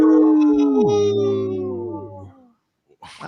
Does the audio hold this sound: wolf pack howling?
yes